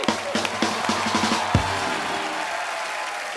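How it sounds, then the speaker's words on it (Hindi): Studio audience clapping on a Hindi comedy talk show, mixed with cheers and a few sharp hits in the first half before settling into a steady, moderately loud wash of applause. "एक बार जोरदार तालियां हो जाए मिस्टर राज कुंद्रा के लिए।"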